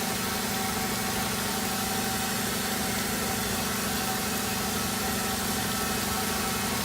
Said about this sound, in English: That's using pressure washer from behind the weld